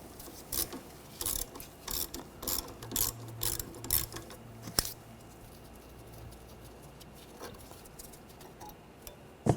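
An 8mm socket on a ratchet backs out a brake hose bracket bolt on a Ford Escape front suspension, with rapid bursts of clicking pawl strokes followed by quieter fiddling and a final clink.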